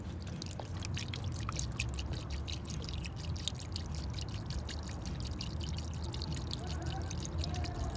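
Water and coolant are poured into a broken-down car by the roadside at night, a steady, continuous glugging pour with faint trickling over low background noise.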